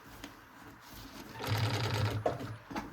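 A sewing machine runs a seam around a fabric backpack: quieter handling, then a close, loud burst of rapid motor-driven stitching lasting under a second before it stops.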